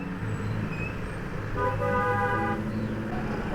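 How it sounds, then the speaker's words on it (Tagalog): Vehicle horn honking in road traffic around a Yamaha NMax scooter rider, a steady harmonic toot lasting about a second over continuous engine and traffic rumble. "Busina."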